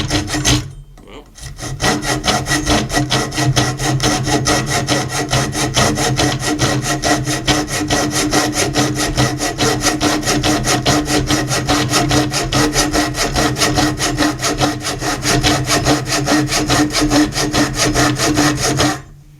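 A Kerye folding saw cuts through wood in a steady, fast back-and-forth rasp that runs for nearly twenty seconds. It is loud and close, starts after a brief pause, and has no speech over it.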